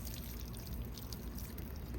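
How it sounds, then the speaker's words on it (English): Water is poured lightly over freshly planted seeds in a seed-starting setup, giving a steady, continuous splashing trickle close by. No voices are heard. "I'm gonna water these seeds in really quick."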